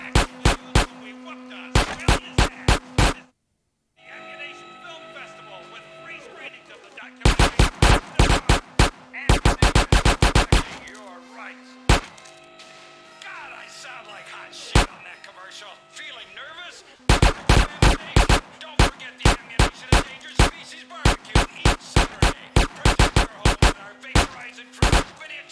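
Rapid bursts of gunfire from GTA: San Andreas crack out in clustered volleys, loud and close, with brief gaps between the strings of shots and a steady tonal hum underneath.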